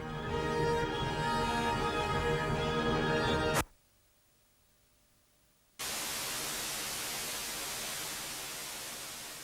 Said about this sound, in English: Detune a television set and it will pick up microwave radiation from the edge of the visible universe.